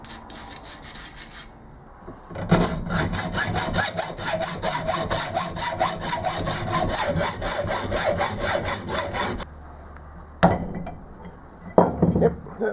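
A hand saw cuts through the feeder of a metal tailstock casting with steady, fast rasping back-and-forth strokes for several seconds, close and loud, then stops; a few clinks and handling noises follow.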